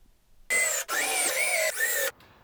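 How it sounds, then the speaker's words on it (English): A power drill runs in three close, loud bursts, whining steadily as it drills pilot holes and drives screws into plywood for a large wooden toy box, with short pauses between bursts. "I drilled pilot holes, countersunk the head, and then put screws in place to hold it together."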